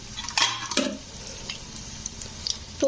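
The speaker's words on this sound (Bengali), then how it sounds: "আমার কিন্তু কাটলেটগুলো ভাজা হয়ে গেছে তো এবারে আমি কিন্তু তেল থেকে তুলে নেবো" Kerala-style veg cutlets in frying oil crackle faintly beneath sharp clinks and scrapes of a utensil against the pan, with a couple of louder metallic knocks early on.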